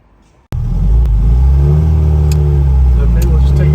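A 1977 MG MGB Roadster with a petrol engine and manual gearbox bursts into a loud, close engine roar after a brief quiet start, then holds a steady rumbling drone with slowly rising and falling revs.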